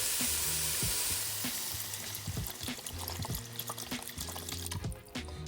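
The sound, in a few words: pouring broth into pot of sautéed onion and garlic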